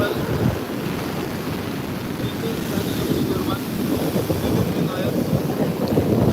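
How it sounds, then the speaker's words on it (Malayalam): Dense, steady roar of heavy rain mixed with surf and gusting wind at Varkala Papanasam beach, continuous and loud throughout. "ശക്തമായ മഴയാണ് മഴയൊക്കെ"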